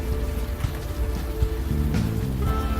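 Steady rain falls in the video game Unavowed, a dense continuous patter on surfaces, loud and close, with a low musical drone underneath and no talking.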